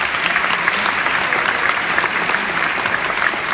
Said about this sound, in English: So a round of applause to all of the family members